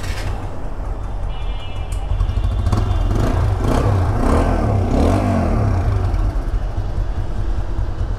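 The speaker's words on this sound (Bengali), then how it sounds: "তো এখন হচ্ছে বাইকের সাউন্ডটা দেখব।" A used Apache RTR 160 motorcycle engine runs close and loud, a continuous low rumble that rises and swells midway as if revved, with no talking over it.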